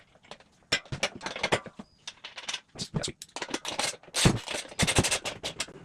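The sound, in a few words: fitting washers and nut on motorbike wheel axle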